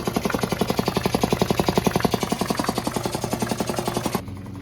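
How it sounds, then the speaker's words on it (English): Air-powered grinder working down a part on a BMW, a loud, steady rapid pulsing buzz close up for about four seconds before cutting off abruptly into quiet hiss. "I'm gonna have to grind that down a little bit more"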